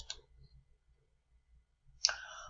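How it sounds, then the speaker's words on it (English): Computer mouse clicks, a soft tick near the start and a sharper, louder click about two seconds later, with faint room noise between. "and then click Save."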